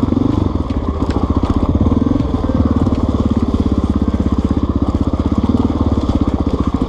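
An XR 600 dual sport motorcycle rides downhill on a Death Valley dual sport ride, its single-cylinder engine thumping in a loud, rapid, steady pulse with rattling, close and continuous with no talk.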